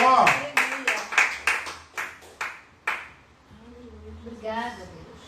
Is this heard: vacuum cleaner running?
no